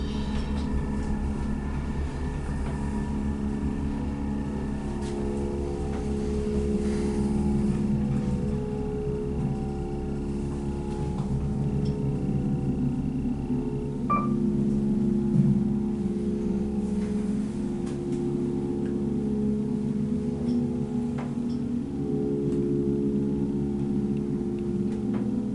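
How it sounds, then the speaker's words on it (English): A motor runs with a steady low droning hum and faint ticking, constant and moderately loud for the whole stretch, with a brief higher tone midway. "Let's listen to the motor."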